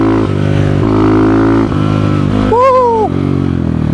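Kovi Max 300 motard motorcycle riding off-road, its engine droning steadily up close and loud with shifting revs, while a brief whistle-like tone rises and falls midway through.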